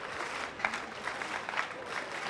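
A French crowd at the 2013 IPC Athletics World Championships in Lyon gives steady rhythmic applause for a local long jumper, distant and continuous, with faint background voices.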